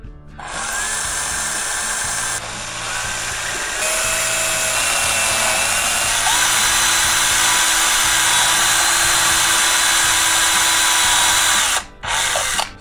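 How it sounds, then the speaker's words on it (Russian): A power drill with a step drill bit whines steadily at high speed, loud and close, biting through material for about twelve seconds before stopping and restarting briefly. "С помощью уже проверенного ступенчатого сверла делаем отверстие в центре."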